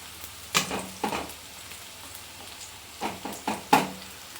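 Cauliflower pieces frying in hot oil, a low steady sizzle broken by several sharp stirring scrapes and clatters of a utensil in the pan, close by and with no talking.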